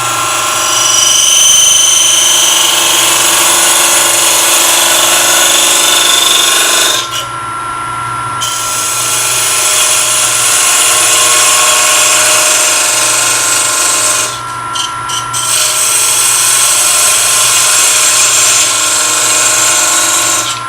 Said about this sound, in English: I'm going to use a commercial parting tool this time, still a thin kerf. I'm going to try to split it roughly in the center.